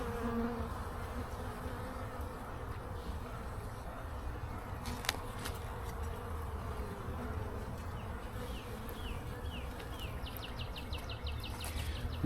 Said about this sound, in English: Plenty of bees.